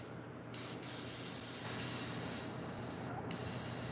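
An airbrush sprays paint thinned with reducer, giving a steady, continuous close hiss with brief pauses near the start and end.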